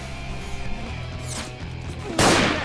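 Gunfire in the video game S.T.A.L.K.E.R. Call of Pripyat: a faint shot midway, then a louder, sharp burst near the end, over a constant low game ambience.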